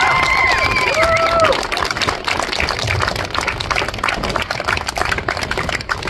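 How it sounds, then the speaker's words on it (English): Guests at a wedding ceremony clap and cheer after the kiss, a dense patter of applause filling the space, with a few high whistles near the start before the clapping settles and continues. "How about a little more applause?"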